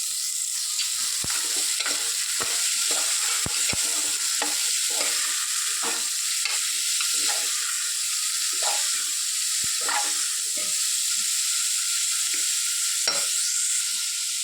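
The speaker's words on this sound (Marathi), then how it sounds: "आता त्यामध्ये मी भिजवलेले मूग टाकूया." Soaked moong beans sizzle and fry steadily in a pan with garlic and turmeric, a continuous loud hiss punctuated by irregular scraping stirs and clinks of the spoon, with no voices.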